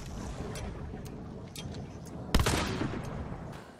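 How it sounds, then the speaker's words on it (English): Gunfire in the multiplayer video game Hunt: Showdown, a single sharp loud shot cracking out over low ambient game noise and faint chatter, followed by a fading echo tail. "Gunshots."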